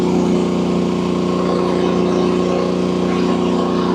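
A Harbor Freight Predator 11,500W generator runs on propane under heavy load, giving a loud, steady engine drone with a constant hum and no change in pitch throughout.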